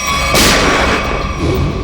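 A single loud gunshot from a gun hidden on a clip with a camera mounted on it, a sharp boom followed by a decaying rumble and room noise, with no voices.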